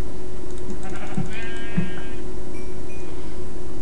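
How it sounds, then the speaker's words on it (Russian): A Minecraft sheep bleats in the video game, two or three short wavering bleats over a steady background hum, with no talking. "Овці і барани."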